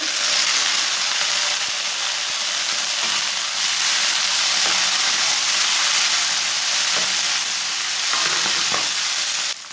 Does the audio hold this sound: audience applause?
no